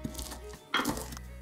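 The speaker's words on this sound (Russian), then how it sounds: "Толкушкой растираю все в однородную массу." Two dull thuds of walnuts and salt being crushed and mashed with a pestle, the second louder, with a grinding scrape after it, close to the microphone.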